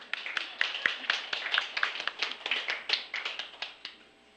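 A small audience claps in a lecture hall at a university special lecture, a brisk patter of individual claps lasting a few seconds and then thinning out.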